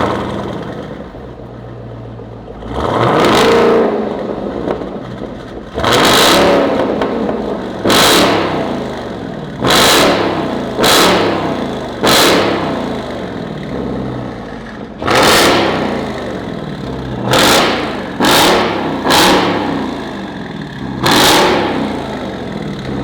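A Jeep Trackhawk engine revs repeatedly in loud, sharp bursts with a gurgling exhaust, roughly a dozen blips spaced unevenly over an idling rumble, close and alone without talk.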